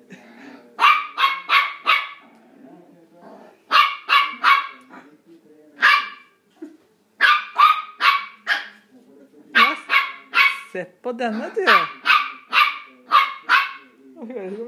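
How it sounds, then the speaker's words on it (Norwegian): A puppy barks close by in repeated rapid bursts of three or four sharp yaps, the volleys separated by short pauses, with a voice briefly speaking between them and some whining and growling noises late on. "Nå hører du nesten bjeffingen utenfor her."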